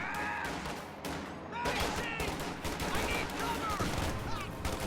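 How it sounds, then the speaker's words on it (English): A strategy war game plays dense, continuous small-arms gunfire with a rifle grenade and scattered bursts, full and busy throughout, with a voice faintly mixed in under the battle noise. "Rifle grenade followed by a retreat."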